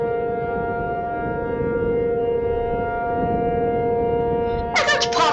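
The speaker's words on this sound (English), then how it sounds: "Oh, there goes the siren." A civil-defense tornado warning siren wails steadily at one sustained pitch during a tornado, loud and continuous, with a brief chirping sound near the end.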